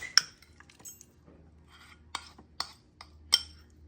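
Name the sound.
mixing mincemeat into cookie dough in a bowl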